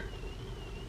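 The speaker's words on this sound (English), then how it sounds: "Oh, it's a car alarm." A car alarm outside a grocery store, heard faintly at a distance as a steady wavering electronic tone over background noise.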